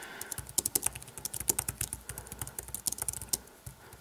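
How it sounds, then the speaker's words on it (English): Rapid, uneven keystrokes on a Logitech Ultrathin keyboard for the iPad mini, close and fairly quiet, clicking in quick bursts with short pauses between them. "So let's go ahead and type"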